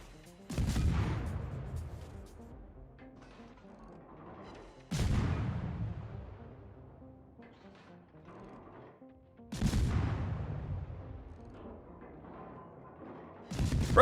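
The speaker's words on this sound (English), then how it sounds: "I'll take my little 4-inch pop guns and see what I can do with them here." The 4-inch guns of the Tier V German destroyer T-22 fire in a naval battle in World of Warships: three separate heavy booms, several seconds apart, each fading in a long rumbling tail.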